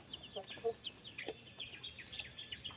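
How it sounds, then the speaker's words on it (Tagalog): One-week-old chicks peep in a steady stream of thin, high cheeps, many small overlapping calls close by and fairly faint, with no speech. "Ito ay 1 week old na mga boss. Yun o. 1 week old na sisiw."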